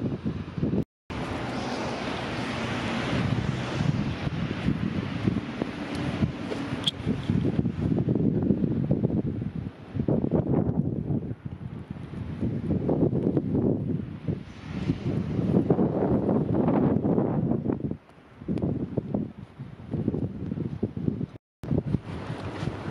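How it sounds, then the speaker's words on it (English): Strong wind roaring during a winter snowstorm in New Jersey, loud buffeting gusts battering the microphone in rising and falling waves with a few sharp dropouts. "It's quite windy right now."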